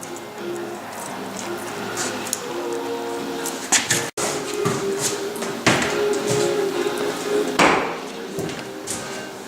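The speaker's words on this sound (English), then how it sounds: "putting on clamps on the end and the middle just to keep it lined up" Clamps go onto the end and middle of a wooden runner plank during a Mini Skeeter iceboat fuselage build, producing scattered knocks, clicks and metallic taps over a steady room hum, with one abrupt brief dropout midway.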